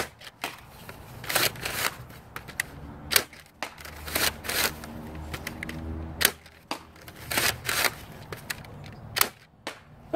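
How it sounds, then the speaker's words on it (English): A handmade dual Boltswarm repeating crossbow being test-fired, a string of sharp snapping shots and mechanical clacks at irregular intervals, fairly close and crisp with quiet gaps between. "now to test the crossbow portion"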